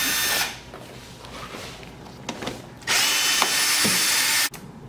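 A power tool spins bumper bolts off the underside of a 2019 Mustang Ecoboost in two loud whirring bursts separated by quieter rattling and clicks, close to the car.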